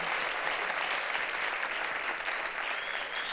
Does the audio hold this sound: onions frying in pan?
no